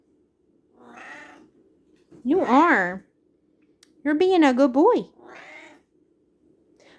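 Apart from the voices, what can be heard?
cat meowing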